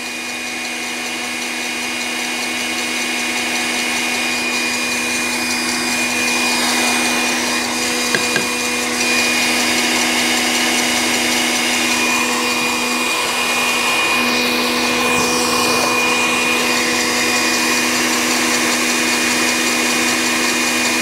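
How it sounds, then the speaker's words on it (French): An electric mixer whips a small batch of meringue for macarons, a loud, steady motor whine running continuously throughout, with a brief clunk midway. "donc on va arrêter le batteur"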